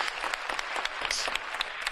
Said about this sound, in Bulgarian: Мисля, че заслужава аплодисменти този отговор.